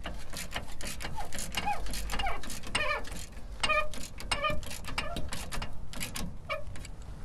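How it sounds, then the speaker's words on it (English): A hand-cranked trailer jack on a three-station restroom trailer is turned to lower the jack and raise the trailer, giving a close, rhythmic run of metallic ratcheting clicks and creaks in quick repeated strokes. "I want to raise the trailer up, so I want to lower the jack. I'm going to go to the right with our jack."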